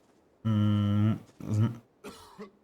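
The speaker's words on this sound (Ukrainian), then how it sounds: "Кілько можеш, друже, кашляти." Three coughs: a long, strained, throaty one, then two shorter ones, close by.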